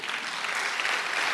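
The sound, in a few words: audience applause at a sermon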